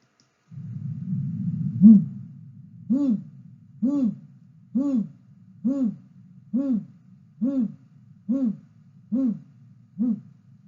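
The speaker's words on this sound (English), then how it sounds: "I'm going to start with the great gray, because it has the most like owl-like call." Great gray owl calling: a steady series of about ten deep, soft hoots at even intervals of roughly one second, alone over a low background hum.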